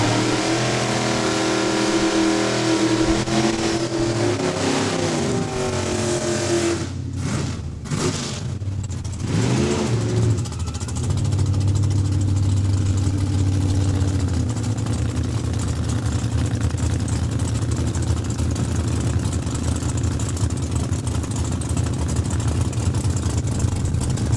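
Drag racing cars at a raceway start line idle with a deep rumble, then rev sharply in loud bursts before settling into a steady heavy drone, close and continuous with no talk.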